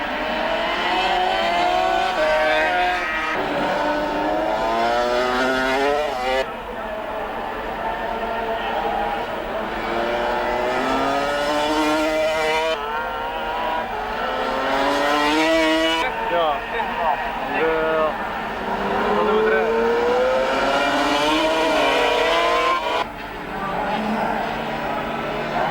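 Motorcycles race flat out on a grass track, engines howling and rising and falling in pitch as bikes pass, a constant loud roar heard under a commentator talking over it.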